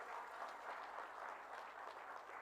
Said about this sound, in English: I would request you to kindly give a round of applause to our partners today, IHC.